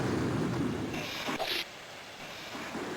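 Lightning strike in the Amiga video game Myth: History in the Making, a sudden crackling thunder burst over a soft background of rain-like hiss, fading back to quiet rumble.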